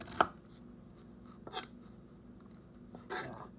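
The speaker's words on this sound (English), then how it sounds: "Chop it down the center, and then make these kind of vertical cuts in it" A knife cuts into an onion on a cutting board with three separate crisp chops spaced about a second and a half apart, quiet and close, with no talk between them.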